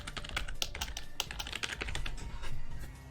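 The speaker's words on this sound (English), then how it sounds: "Well, I'm busy typing," Rapid, uneven keystrokes clatter on a computer keyboard during a Heroes of the Storm esports match, clicking steadily and close for about three seconds with no voices.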